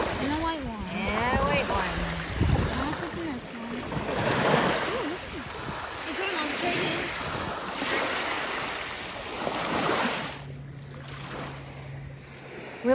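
Ocean waves wash onto a beach in steady, broad surges, with wind buffeting the microphone; a voice talks over the surf through most of the stretch.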